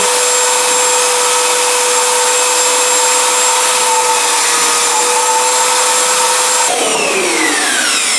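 Loud, steady whine of a power mixer stirring floor screed in a bucket, running continuously up close, with a shift in pitch near the end as the paddle moves.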